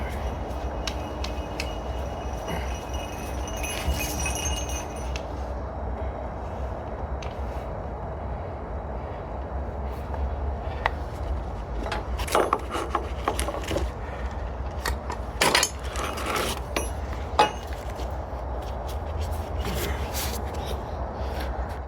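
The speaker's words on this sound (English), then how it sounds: "as you watch me take all my straps off and wind them up" Lorry load straps are unbuckled and wound up on a strap winder beside a truck, rattling clicks, scrapes and knocks of webbing and metal over a steady low background rumble, irregular and close.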